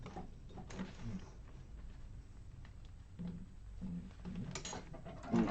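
A sewing machine stitches a crossbody bag, its needle mechanism whirring and clattering in uneven runs with small mechanical clicks between bursts, moderately close and fairly quiet.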